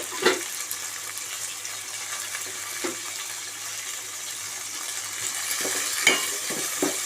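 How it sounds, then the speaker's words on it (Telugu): Curry leaves frying in hot oil in a pan while being stirred, a steady close sizzle broken by several sharp scraping stir strokes. "తర్వాత కరివేపాకు వేసుకోవాలి. వేసుకొని కలుపుకోవాలి."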